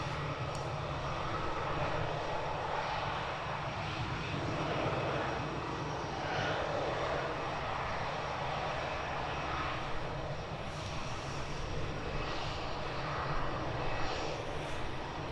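A British Airways airliner arriving at Edinburgh Airport roars steadily with broad engine noise for the whole stretch, loud and sustained, swelling slightly as it passes, with no talk.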